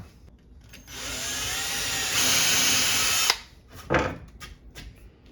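A power drill drilling into kitchen cabinet wood whirs up to a high steady whine for a couple of seconds, then stops, followed by a few quieter knocks and a short second burst.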